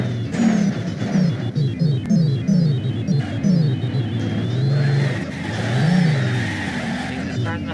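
A car engine in the BeamNG.drive video game on its new quarry map revs repeatedly in rising and falling bursts, loud and close, with a strong rumble and a longer sustained rev near the end.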